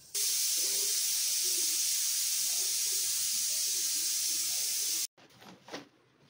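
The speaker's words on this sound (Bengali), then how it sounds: "এক্ষুনি প্রেশার কুকারের সিটিটা পড়বে।" A pressure cooker vents steam in a loud, steady, close hiss for about five seconds, then cuts off abruptly, leaving faint kitchen sounds.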